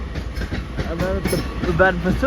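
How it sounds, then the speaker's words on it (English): A Midland Pullman train passes through Crewe station with a loud, close rumble and rhythmic wheel clatter, brief squeal-like tones rising over the noise of the moving train. "I was not expecting the Midland Pullman"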